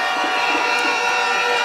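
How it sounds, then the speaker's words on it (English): Crowd at an outdoor UNC campaign meeting in La Horquetta/Talparo erupting in steady, dense applause and cheering, loud and continuous throughout with no break. "Give him a round of applause"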